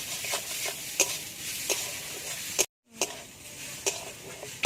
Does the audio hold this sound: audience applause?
no